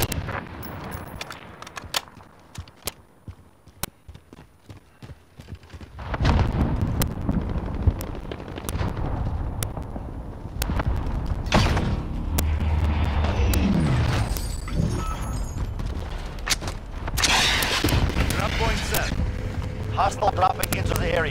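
Airstrike explosions in the game Warzone arrive as a series of heavy booms and rumbling blasts after a quieter stretch of scattered gunfire, with radio-style game voices talking over the action.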